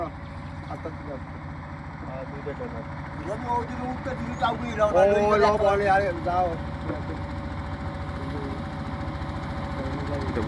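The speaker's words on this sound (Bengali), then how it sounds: "দুইটা ট্রলার আসতেছে, একটা বাল্কহেড আসতেছে।" Steady engine rumble of trawler boats and a bulkhead vessel on a fast-flowing river at a ferry crossing, swelling a little louder midway as a motor draws nearer, with voices talking over it.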